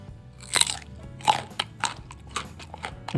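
Close, crisp crunching as someone bites and chews crunchy green mango dipped in chili, several loud snaps in a loose, uneven rhythm.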